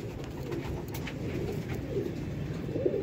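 Pigeons in a loft set up for sale coo in a soft, continuous low murmur, many birds overlapping nearby, with a few faint higher chirps and no talking.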